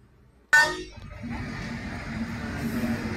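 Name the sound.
train passing a closed railway level crossing gate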